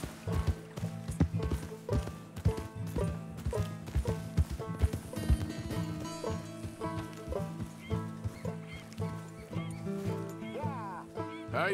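Horse hooves clip-clop in Red Dead Redemption 2 at a steady walking rhythm, with game music and ambience underneath and a brief spoken line over the hoofbeats.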